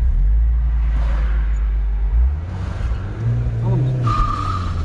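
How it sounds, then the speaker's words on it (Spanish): A Mini Cooper S Turbo launching from 0 to 100 km/h in Sport mode, with a loud, close engine roar that climbs through the gears, a brief tire squeal, and voices talking underneath. "vamos a hacer el 0 a 100 otra vez. Pero ahora con el modo Sport y con un cronómetro"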